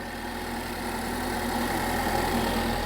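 A Ford Focus ST sits at idle, its engine giving a steady, even low hum with a faint rhythmic pulse and mild vibration, moderately loud and close, with no voices over it.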